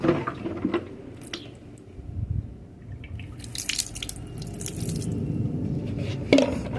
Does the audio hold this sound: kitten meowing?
no